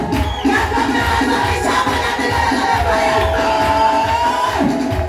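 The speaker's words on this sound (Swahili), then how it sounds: "Tupigie makofi mazuri kwa ajili ya watumishi wa Mungu" A church congregation applauds and cheers for the servants of God. Whoops and a high, ululating voice ride over a continuous, loud wash of crowd noise.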